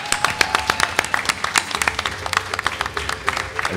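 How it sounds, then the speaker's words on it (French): Audience applause at a live gaming event, with dense rapid clapping from many hands sustained throughout, fairly close and lively, with no talk over it. "On peut encore applaudir s'il vous plaît"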